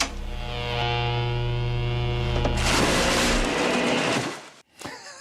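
Designed effect of a vacuum tube amp starting up, as in the film Meatballs: a steady loud mains-like hum with harmonics swelling, then a dense crackling burst, and a sudden drop and small thump near the end.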